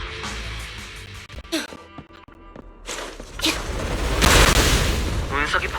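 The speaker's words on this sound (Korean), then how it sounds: "운석이 폭발하면서 길을 만들었네요." A meteor explodes in the video game Zenless Zone Zero, heard as heavy booms and crackling bursts followed by a sustained roaring rumble, with game effects and voice-like tones mixed in.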